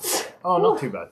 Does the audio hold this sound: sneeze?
yes